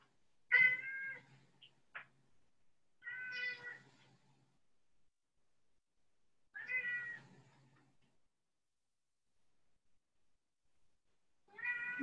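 Pet cat meowing in four separate drawn-out calls spaced across a quiet room, moderately close and clear, with silence between cries.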